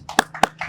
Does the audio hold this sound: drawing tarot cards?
no